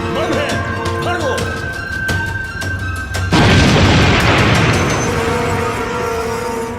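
Bomb explosion in a jungle action thriller film, a sudden loud broadband blast with rumbling debris after a few seconds of tense scoring and clattering, sustained roar fading slowly.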